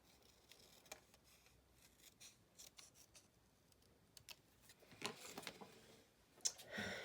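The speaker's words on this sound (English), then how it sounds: "So I'm going to just take my scissors and cut this tab off." Scissors snip through a paper card tab, close and quiet, with a few small clicks before a run of brisker cuts near the end.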